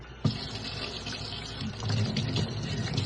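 Kitchen tap running lukewarm water while vegetables are scrubbed by hand, a steady close splashing gush with a sharp burst as the stream starts and a fuller splash later on.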